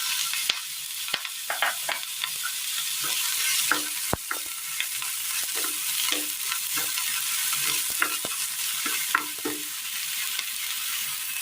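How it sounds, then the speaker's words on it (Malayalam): Brinjal pieces dropped into urad dal frying in oil make a continuous close sizzle, broken by repeated scraping strokes of a spoon stirring the pan, with no talk. "ഉഴുന്നൊന്ന് ചുവന്ന് തുടങ്ങുമ്പോൾ ഇതിലേക്ക് നമുക്ക് വഴുതനങ്ങ ഇട്ട് കൊടുക്കാം."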